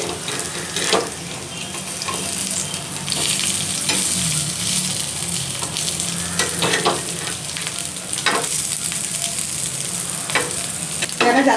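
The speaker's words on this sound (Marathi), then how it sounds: "बारीक गॅसवरती फ्राय करायचे आणि मस्त कुरकुरीत होत आहेत" Coriander fritters (kothimbir vadi) shallow fry on a pan over a low flame, with a steady sizzle broken by occasional spatula scrapes and taps at close range, no voices.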